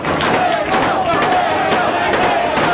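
A wrestling crowd cheers for Christopher Daniels during a match, a loud, dense roar of voices and shouts with scattered thumps from the ring, while a commentator talks over it.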